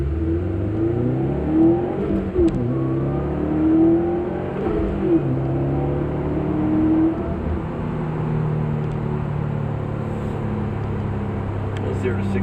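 A 2017 Subaru WRX STI Limited accelerating hard from a standstill toward 60 mph, engine note climbing through gears with a shift dip midway, loud and close, and a voice talking over parts of it.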